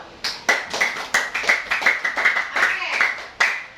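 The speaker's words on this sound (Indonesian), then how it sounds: "Kasih tepuk tangan dulu." A small group in a school coaching session claps in quick, fairly even succession, about a dozen sharp, close hand claps over a few seconds, with a faint voice underneath.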